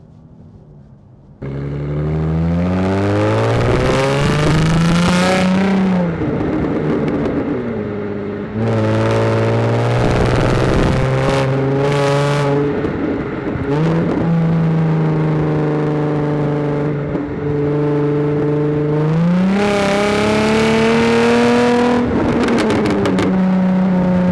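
A 2014 Jaguar F-Type 3.0 V6 S automatic pulls away, its engine rising through several strong revving surges with gear changes between them, loud and close from inside the car.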